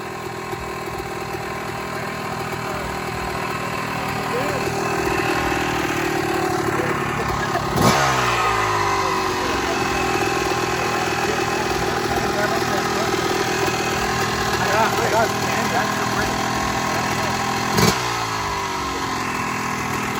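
A motorcycle engine idles steadily outdoors at night, with two sharp revs whose pitch sweeps up and falls away, under ongoing background chatter.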